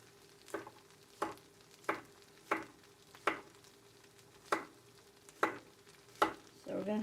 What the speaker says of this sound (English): sauteed zucchini and squash, because they're fresh from the garden